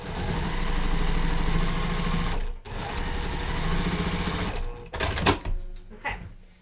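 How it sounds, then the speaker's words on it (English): Sewing machine running steadily while sewing down a quilt block, a continuous close mechanical whir for a couple of seconds, a brief pause, then more stitching that breaks into shorter bursts and handling noises toward the end. "And then I'm going to sew this down."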